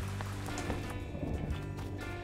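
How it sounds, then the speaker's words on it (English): Cartoon rain effect of a heavy downpour in a Peanuts animated scene, a steady dense hiss of falling water with faint patter, continuous and fairly close, with no talking. "It's raining!"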